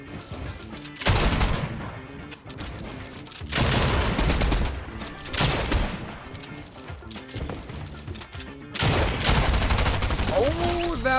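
SMG fire in Fortnite crackles in rapid, loud bursts, several volleys separated by short gaps, with harsh impacts and no talk over them.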